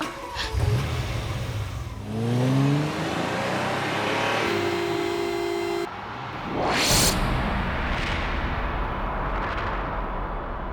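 A car engine revs hard, its pitch climbing in repeated rising surges, loud and close with a rushing, roaring whoosh partway through and steady engine drone throughout.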